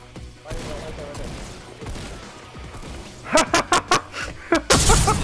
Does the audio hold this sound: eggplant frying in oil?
no